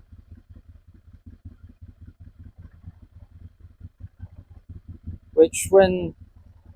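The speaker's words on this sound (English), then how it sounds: "There's a hell of a noise coming from the clutch." A broken Ducati M796 motorcycle idles with a steady, rhythmic clattering knock from a noisy clutch, heard close, and someone talks briefly near the end.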